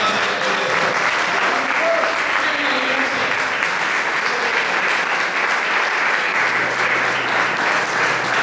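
Church congregation applauding during a sermon, a thick, continuous wash of clapping held at steady volume, with faint voices and a low tone surfacing underneath toward the end.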